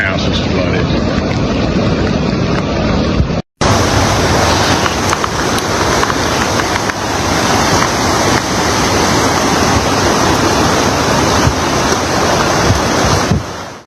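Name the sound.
flooded Guadalupe River rushing water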